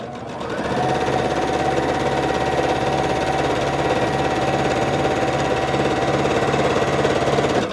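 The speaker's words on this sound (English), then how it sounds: "I'm going to sew 1/4 inch on either sides of this." A sewing machine stitches a 1/4 inch seam on fabric squares for a quilt, starting up and then running at a steady, fast, continuous whir with rapid needle clatter. It is close and loud, with no talking.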